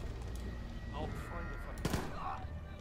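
Quiet gunfire in the video game Wolfenstein II: The New Colossus, a brief burst of shots over a low background with a voice speaking at times.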